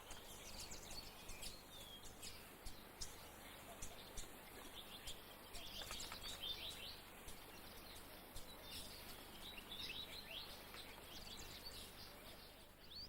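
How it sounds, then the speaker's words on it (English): Paradise flycatcher and other birds call in a rain-fed habitat, with faint scattered chirps and tweets over a soft, steady background hiss, distant and quiet. "But the paradise flycatcher is another resident held here only by the annual magic of the rains."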